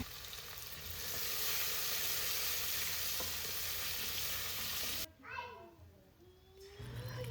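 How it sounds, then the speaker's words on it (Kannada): Sliced onions fry in hot oil with a steady, even sizzle for several seconds, then the frying noise cuts off and a voice and other household sounds follow. "ಇಪ್ಪ ನೀರುಳ್ಳಿ ಫ್ರೈ ಆಗಿ ಹೊಲ್ಟು"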